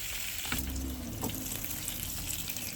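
Bacon frying on high heat in a pan: a constant close, loud hissing sizzle that fills the whole clip, with a brief low rumble and a faint tone partway through.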